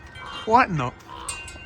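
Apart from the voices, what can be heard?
American crow cawing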